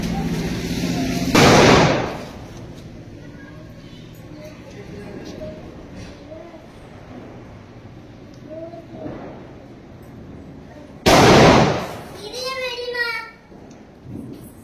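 Two loud, sharp bursts go off, one early and one late, during Diwali celebrations. Children and adults talk between the bangs, and a voice rises after the second blast.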